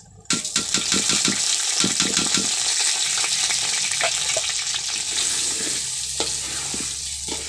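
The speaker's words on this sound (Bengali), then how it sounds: "এর জন্য শুধু পেঁয়াজ আর গরম মশলা দিয়ে পোলাও চালগুলো ভাজবো।" Polao rice frying with onion and garam masala over a clay stove sizzles loudly and steadily, with repeated scraping stirs cutting through the hiss at an irregular rhythm.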